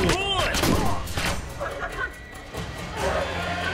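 Gunshots and a firefight from an episode of The Punisher TV series, a chaotic burst of shots and thuds mixed with overlapping voices and dramatic noise, fairly loud throughout.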